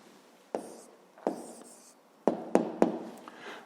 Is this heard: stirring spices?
no